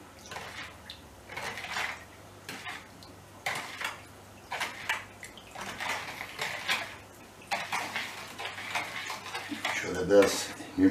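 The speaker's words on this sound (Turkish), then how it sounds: "bu toz şekerini atıyoruz. Bunu güzel biçimde karıştırıyoruz." Sugar being stirred into a very concentrated homemade lemonade base, with a spoon clinking and scraping against the container in quick repeated bursts, moderately close, interrupted by brief pauses.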